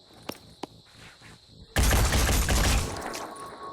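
Weapon fire in the Blood and Titanium video game: a sudden loud blast of shots erupts partway through after a couple of sharp clicks, then trails off into a rumbling decay.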